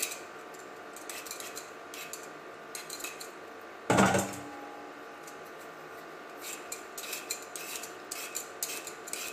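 Potatoes, including a bumpy uneven one, scraped with a peeler, giving quiet repeated scraping strokes and light rubbing, with one louder clatter partway through.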